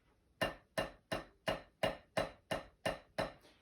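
Nine soft, evenly spaced tambourine taps, played too delicately, in a steady rhythm, each a light, muted jingle with a brief decay.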